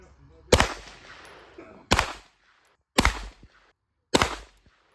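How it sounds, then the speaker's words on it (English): Four sharp, loud pistol shots from a Beretta 92A1 fired outdoors on a range, the first double action and the rest single action, spaced about a second apart, each with a short echoing tail. "I'm going to fire double action, and then the next shot single action"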